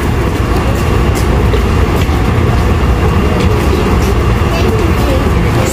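A train headed to Sunny Bay Station fills the space with a loud, constant rumble and hiss of motion that carries on without a break.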